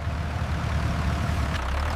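Tractor engine running steadily as it heads out to the fields for a beet harvest, a continuous low droning rumble at constant loudness with no voices.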